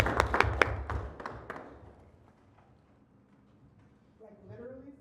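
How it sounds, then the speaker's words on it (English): Applause for outgoing co-chairs at a community oversight committee meeting: a burst of claps in the first two seconds that fades quickly, followed by a quiet room and a voice starting to speak near the end. "Let's give them a round of applause."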